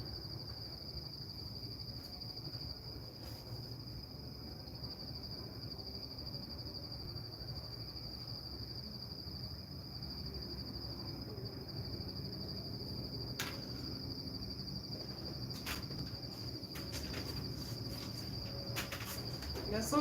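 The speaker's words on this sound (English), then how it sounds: "There are so many insects." Crickets chirp outdoors at night in a steady, high, continuous trill, moderately near and quiet, with a low ambient rumble underneath and a few faint clicks, no speech.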